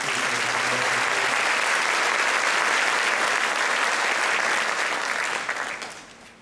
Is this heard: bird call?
no